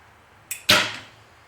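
A single arrow loosed from a Fivics Argon-X recurve bow: a short string snap followed by a louder, sharper release thump that fades quickly, close and alone with no talk.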